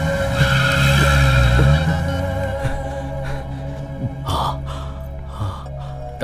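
A car pulls away with tires skidding and squealing, a loud rushing engine swell early on, then scattered sharper screeches and thuds as it speeds off, with no talk.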